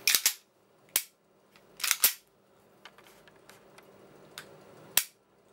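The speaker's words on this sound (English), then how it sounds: "notice that reset is actually audible and clickable" Trigger-reset clicks on a Tokyo Marui G17 airsoft pistol with a lightweight trigger mod: about six crisp, close snaps at irregular intervals, some in quick pairs, with fainter ticks between them in a quiet room.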